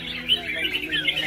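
Red-whiskered bulbuls sing from cages hung on the stand at a bird song competition, bright overlapping chirps and warbles, fairly close, with a low murmur of background noise.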